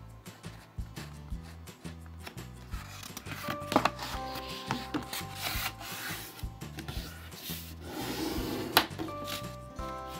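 Sheets of cardboard are folded tip to tip for a handmade pop-up wedding or birthday card, giving faint, close rubbing and creasing sounds in short repeated strokes, with soft tones underneath.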